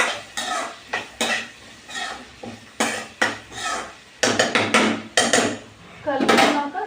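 A spoon mixes salted food, likely raw plantain pieces, in a metal pot, making a series of close, sharp scraping clanks and knocks in irregular bursts with quiet gaps between.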